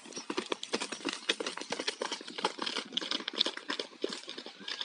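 Horses walk back to the pasture after drinking at a stable, hooves clip-clopping in a steady, busy rhythm of close, overlapping footfalls with no talk.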